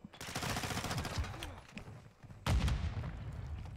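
Rapid gunfire from a search-and-destroy round in a shooting video game, loud bursts packed across the clip with a sharp peak midway, while players chatter over it.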